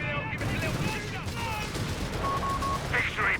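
Gunfire rattles through a Company of Heroes 3 battle between Wehrmacht and British forces: dense machine-gun bursts and scattered shots with a heavy combat din, alongside other game effects.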